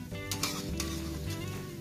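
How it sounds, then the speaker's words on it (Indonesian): Sausage fritters sizzle steadily in hot oil in a pan, a close, continuous crackling fry with a few brief scraping stirs of a utensil, no voices. "lepas tu kita goreng lah sampai dia garing deh."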